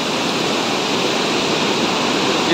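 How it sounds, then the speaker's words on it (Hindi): The swollen Siang river at Pasighat rushes past as a loud, dense, continuous roar with no pauses or talk. "काफ़ी ज़्यादा भर गया ये नदी।"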